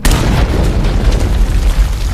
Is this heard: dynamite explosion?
yes